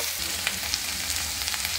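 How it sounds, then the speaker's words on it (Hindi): Onions and curry leaves fry in a pan for a chicken curry, giving a steady close sizzle with small crackles and pops throughout. "ये देखिए थोड़ा मसाला भून जाए, ये प्याज भून जाए"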